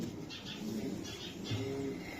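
A racing pigeon coos in a few soft, repeated low calls close by, set against a faint background hum.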